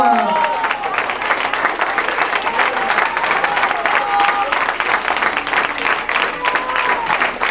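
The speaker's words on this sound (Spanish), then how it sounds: "Dale un aplauso a Cristo en esta hora" Church congregation clapping during a Spanish-language pastor appreciation service, a dense, sustained round of applause with a few cheers, with voices shouting over it throughout.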